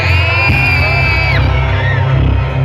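Festival crowd at a São Pedro bonfire celebration in Cachoeira de Minas, yelling and whooping together in a loud, sustained roar with a high whistle-like tone sliding above the din.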